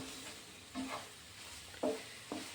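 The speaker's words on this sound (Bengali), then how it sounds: "ভালোভাবে নেড়ে চেড়ে মিশিয়ে নিচ্ছি" A spoon stirs pasta around a pan on the stove, making a few soft, separate scraping strokes over a quiet kitchen background with no talking.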